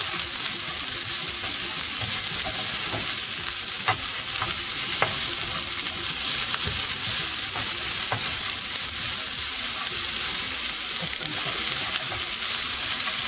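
Half a cup of onion fries in a pan over raised heat for an urad dal tarka, a constant bright crackling sizzle with occasional sharper pops, close and steady throughout with no speech.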